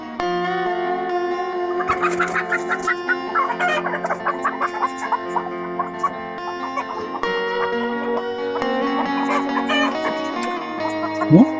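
Chickens in a coop, including Black Shaver and Blue Australorp hens and crossbred laying hens, clucking repeatedly with drawn-out calls and crowing, loud and close, overlapping in an irregular chorus.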